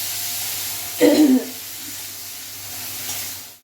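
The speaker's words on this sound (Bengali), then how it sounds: "এই যে পেঁয়াজের পেস্ট, নাড়াচাড়া দিয়ে তেলটা একটু হয়ে গেছে।" Onion paste fries in hot oil for a Bengali lunch dish, giving a steady close sizzle with a brief louder burst near the start, as if stirred.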